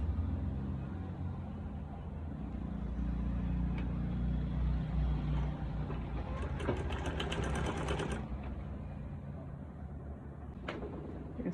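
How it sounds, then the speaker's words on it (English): A sewing machine stitches fabric for a pleated turban, giving a faint, steady motor whir with rhythmic needle clatter that grows busier in the middle of the clip. No voices. "So I'm going to sew it."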